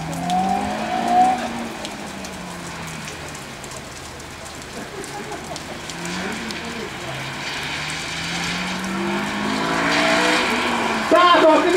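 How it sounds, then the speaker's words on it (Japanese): A Honda S2000 race car, number 34, laps a circuit during a timed run, its engine note rising and falling as it passes, with wind and rumble throughout and a commentator talking over it. "現在走行中ゼッケン34番吉田健三 S2000"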